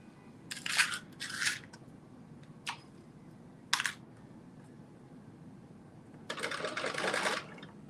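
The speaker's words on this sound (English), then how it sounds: "I'm gonna go in and start stitching" A home sewing machine runs in short bursts, stitching a regular seam around a dress bodice, with a few brief clicks between runs and a longer steady burst near the end, fairly quiet against a low room hum.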